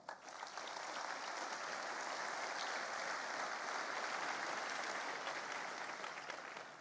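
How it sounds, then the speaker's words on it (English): Sustained applause from a crowd, steady and full for several seconds before easing slightly at the end. "Let's give them a round of applause."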